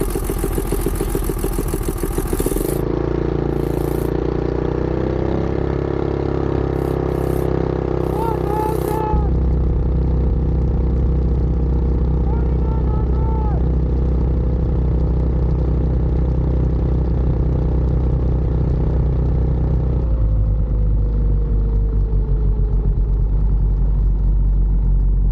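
Small mini bike engine revving up through a torque converter, a loud steady drone whose pitch climbs and shifts in stages, with a voice talking over parts of it.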